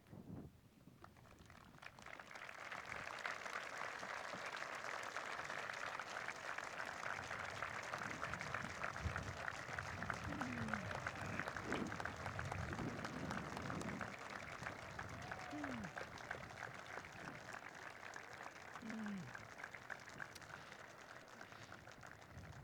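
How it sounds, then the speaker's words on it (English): Graduates and guests at a college commencement ceremony give a long, hearty round of applause, broad crowd clapping that swells and holds steady, with a few scattered cheers and whoops rising above it. "please rise and give all those people who've shaped you into the person you are today a hearty round of applause"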